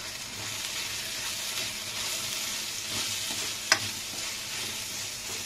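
Tomato masala for chole frying in a pan, with a steady, close sizzle and occasional stirring, plus one sharp clink partway through; no talking.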